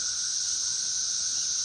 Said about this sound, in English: the cicadas in the background.